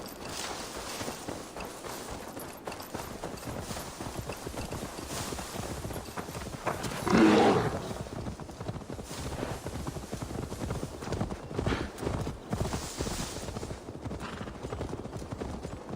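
Horse hooves clip-clopping in the Assassin's Creed Valhalla video game, an even patter under music with a louder swell midway and no talk.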